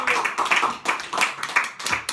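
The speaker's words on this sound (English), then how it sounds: "Let's give a warm round of applause for Richard" A stand-up comedy audience applauds in bursts of sharp, close hand claps, pulsing unevenly in loudness over about two seconds.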